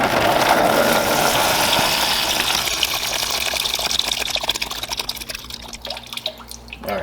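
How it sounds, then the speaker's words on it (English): Water from the carbon-filter line of an iSpring RCC7A under-sink reverse osmosis system gushes steadily into a bucket, then thins to trickles and drips near the end, close by with no talk. "water is going to come out of here, so I'm pointing it at a bucket"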